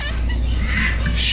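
A baby Catalina macaw near weaning age calls during hand-feeding at an aviary, giving close, raspy squawks and clucking sounds over a low background hum.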